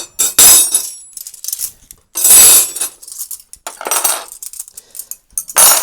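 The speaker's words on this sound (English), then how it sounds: "When you hear the clatter of cutlery" Cutlery, plates and glasses clatter and clink during washing up at a kitchen sink, in several sharp, loud bursts separated by brief pauses, close by.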